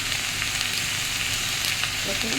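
Sliced banana stem fries in a pan with a dense, continuous sizzle close up, steady and alone without voices.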